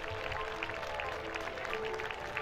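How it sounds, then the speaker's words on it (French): Crowd applause rings out at the 20th European hot air balloon cup in Mainfonds Aubeville: a steady, dense patter of many hands clapping that keeps an even level throughout. "Bravo, applaudissements."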